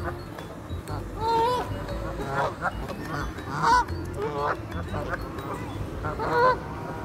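Geese honk repeatedly at close range beside a canal, loud nasal calls coming in bursts, with quieter duck quacking and a person talking softly in between.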